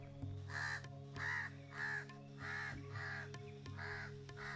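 An oriental crow caws loudly and harshly in a run of about seven evenly spaced calls, close and prominent over a faint steady background hum.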